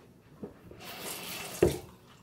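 A bathroom sink tap runs briefly to rinse the mouth out after mouthwash, a steady soft hiss of water lasting about a second, with a short clunk partway through.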